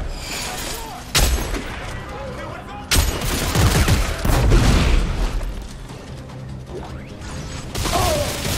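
Gunfire in the video game Dead Space 3: several sharp, loud bursts and booms hit near 1, 3 and 4.3 seconds, with mechanical clanks and rumbling action between them, then one more blast near the end.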